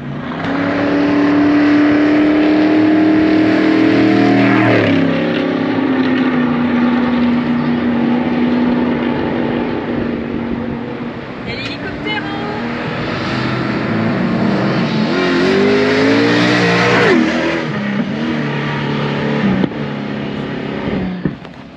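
A rally car speeds along a dirt track in Baja California, its engine loud and close, revving and shifting pitch through long pulls with a rise and fall as it passes.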